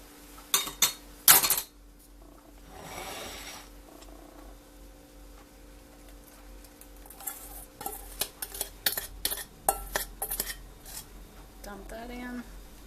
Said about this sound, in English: Kind of just stir that around just a little, get it all mixed together.